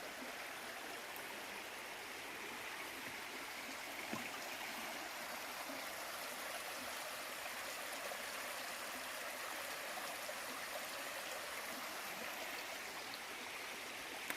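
A mountain stream on the Appalachian Trail flows in a soft, continuous rush, gentle and steady throughout, with one faint knock partway through.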